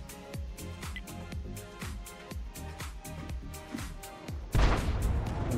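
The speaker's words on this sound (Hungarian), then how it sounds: "Hallottam valami artin lövést." Artillery shot in a war video game: a sudden heavy boom near the end cuts over a steady run of rhythmic mechanical clanks and rumble, with no voices.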